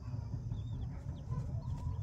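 A ten-month-old rooster weighing about 2.5 to 3 kg clucks softly and steadily, close by, with a low murmur of other fowl underneath and no talking.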